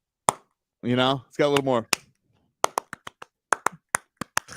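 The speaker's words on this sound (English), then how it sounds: "It's a little bit weird for me to clap." A man claps his hands roughly a dozen times, loud and close, in two sharp uneven bursts after a short stretch of speech.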